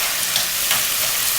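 Recao and seasonings for a Puerto Rican corned beef guisado sizzle in a hot pan with a steady, crackling hiss, close and continuous.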